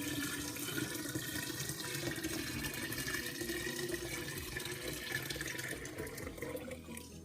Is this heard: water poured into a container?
yes